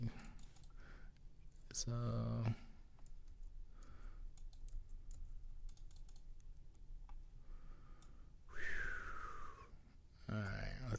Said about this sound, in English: typing is a struggle